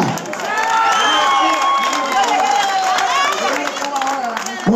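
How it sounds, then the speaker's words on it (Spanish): Crowd at an improvised music show in Las Vegas, loud sustained cheering, shouting and clapping, with excited voices calling out over the steady applause. "Aplauso para ella."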